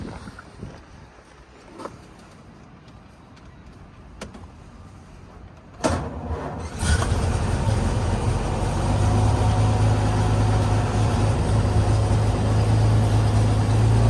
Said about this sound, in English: we're going to go ahead and fire it up and go for a little ride